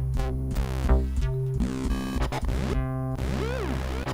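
Synth bass preset from the reFX Nexus 3 plugin, playing a busy riff of pitch-sliding notes with sweeping, wobbling tones on top, loud and dense throughout with no talking.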